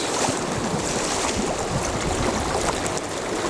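A trout creek in Central New York runs steadily with shallower water on one side and deeper water along a wall, giving a continuous broad rushing wash close by, with no speech over it.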